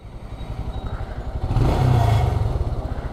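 A motorcycle engine idles with a rhythmic knocking from underneath, rising briefly in a rev before settling back to the steady clatter.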